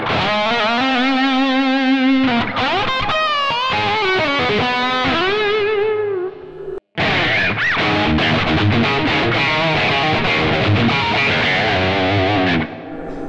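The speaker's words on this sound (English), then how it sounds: "in the humbucker position, it really acts and sounds like a proper humbucker" A Yamaha Pacifica 502V Custom electric guitar in the humbucker position runs through a Yamaha THR10X amp with distortion. It plays sustained bends, then fast, loud, driven runs and chords in a lead after a brief pause.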